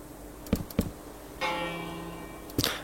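A bell in Minecraft rings in a few sharp struck tones, two close together, then a longer sustained ring, then another strike, fairly quiet and with no talking.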